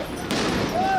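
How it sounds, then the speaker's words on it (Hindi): Fireworks bursting rapidly over the city of Umm al-Fahm in Israel during unrest: a sudden dense crackling barrage of pops and bangs, loud and continuous, with a faint voice underneath. "आसमान में छूटते ताबड़तोड़ पटाखे"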